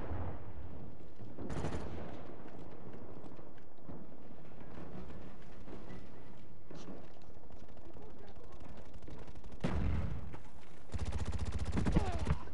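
Gunfire in the video game Call of Duty: Black Ops during a multiplayer match, sharp bursts of shots and rapid automatic fire at moderate distance, scattered among quieter game ambience with players talking over it.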